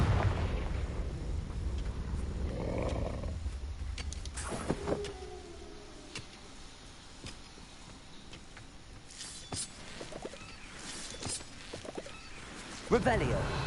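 Confringo fire spell in Hogwarts Legacy detonating with a sharp blast around the fifth second, followed by softer crackling bursts later over steady ambient game noise.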